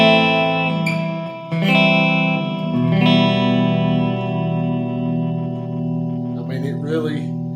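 Oscar Schmidt Delta Blues semi-hollow electric guitar played through both pickups with a little reverb, chords strummed and left to ring out with long sustain, close and fairly loud, with a brief plucked flourish near the end.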